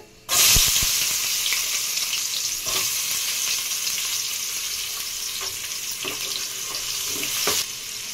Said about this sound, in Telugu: మెంతులు వేగేయండి, ఉల్లిపాయ ముక్కలు వేసుకుందామండి